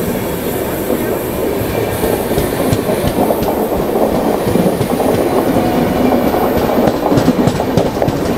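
A Coimbatore Express behind a WAP-7 electric locomotive passes close by, its coaches producing a loud continuous roar with rhythmic clickety-clack of wheels over rail joints and occasional squeals of metal.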